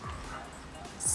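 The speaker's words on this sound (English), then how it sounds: "Sorry for the dogs barking" Dogs bark and yip faintly in the background of a quiet room during an eyebrow grooming session, a short burst of small-dog yapping at the end.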